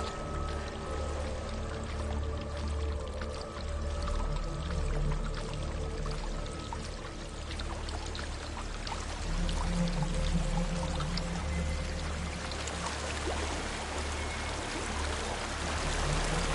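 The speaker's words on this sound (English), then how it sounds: "There's a waterfall." Waterfall in the video game Hellblade, a steady rushing pour of water that runs unbroken and fairly loud under a low ambient drone.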